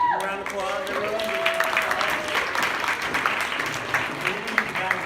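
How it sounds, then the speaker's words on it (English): Applause rises from the audience at a university student association's winter banquet talent show, a moderate scatter of claps beneath a voice that fades early on, continuing steadily to the end. "give a round of applause, everyone"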